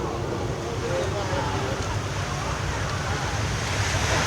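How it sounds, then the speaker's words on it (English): Flash flood water effect on the Universal Studios California studio tour tram, a continuous loud rushing roar of surging water with wind-like noise, steady throughout. "it's a flash flood"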